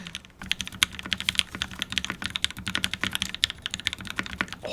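Rapid typing on a custom mechanical keyboard, a dense stream of crisp clacky keystrokes with deeper thocks, close and loud with no voices.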